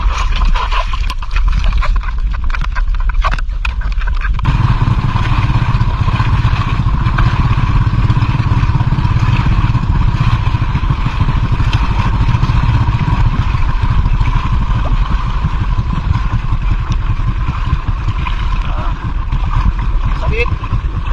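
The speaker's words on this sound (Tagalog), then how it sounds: "Okay, bandarin mo na yung makina." A boat engine runs loud and close in a steady, rough drone after a few seconds of scattered clattering, with voices faint underneath.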